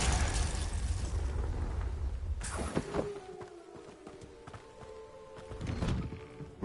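Confringo fire spell blasts from a Hogwarts Legacy battle hit one after another: a heavy low boom at the start, then sharp bursts and crackling impacts with ringing magical tones trailing off.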